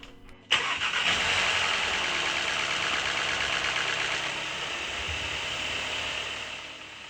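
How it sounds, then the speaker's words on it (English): A car engine fires up on a driveway after an oil change, with a sharp start and a rattling valve train clatter that settles into a steady mid-pitched idle lasting several seconds. "What you heard when the engine first started up was valve train noise"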